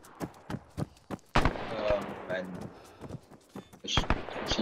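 Machine gun fire sounds in a World War II Battle of Wake Island video game, as a string of sharp, punchy shots in quick irregular bursts, with voices talking among the shots.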